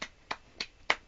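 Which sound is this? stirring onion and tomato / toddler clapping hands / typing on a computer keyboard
toddler clapping hands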